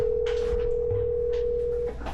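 A phone dialing tone sounds, one steady, loud, unbroken tone that holds for nearly two seconds and then cuts off, with faint background noise and no speech.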